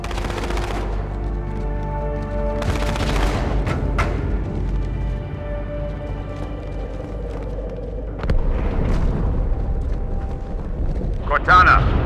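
Explosion and gunfire in the video game Halo 2: a continuous wash of game combat with rolling rumble, layered bursts of gunfire and a heavier blast near the end, with a voice talking over the noise.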